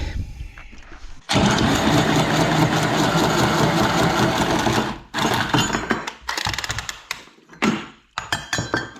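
An angle grinder cuts with a loud, harsh, continuous whine for several seconds, then breaks into shorter, uneven bursts separated by brief pauses.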